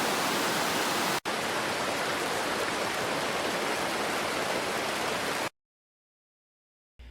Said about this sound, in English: And there you go, a realistic river sound,